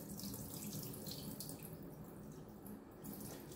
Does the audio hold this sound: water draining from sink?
yes